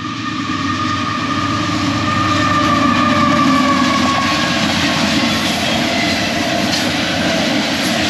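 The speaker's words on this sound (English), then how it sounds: "the train is coming" A train rolls past near a riverside dock, making a loud, steady rumble and clatter that holds without a break for several seconds.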